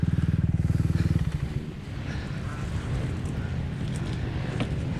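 Motorcycle engine from a motocross race, a loud pulsing buzz up close for the first second, then a rougher, windy engine roar that keeps going after a crash on the track.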